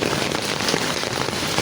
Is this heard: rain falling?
yes